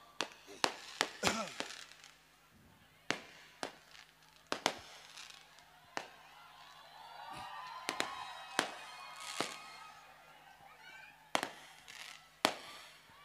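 Firecrackers explode in a rapid, irregular string of sharp bangs, some near and loud, others fainter, with faint voices in the background at an Islamic religious gathering.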